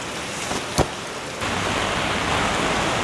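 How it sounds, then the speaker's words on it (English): Rain falls outside as a steady, dense broadband hiss, getting louder and fuller partway through, with a brief sharp knock near the start and no voices. "It's pouring outside. I've got to brave the rain to get to Olive Young."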